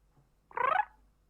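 A human voice makes a brief, soft little kitty mew imitating a cat, a single short trilled sound in an otherwise quiet moment.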